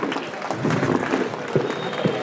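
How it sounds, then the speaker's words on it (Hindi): An audience at a college festival, Xavier Utsav at St. Xavier's College, Simdega, applauds for the sponsors with sustained crowd clapping, fairly loud and dense, with a few sharper claps standing out. "आप उसके लिए एक बार ज़ोरदार ताली बजा दें"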